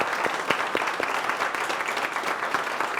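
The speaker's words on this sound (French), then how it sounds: "5 secondes d'applaudissements pour monsieur Ibrahima Théo Lam." Applause from an audience at a Burkina Faso entrepreneurship training session, greeting speaker Ibrahima Théo Lam: a steady, dense patter of many hands clapping, moderately near, running continuously without talk.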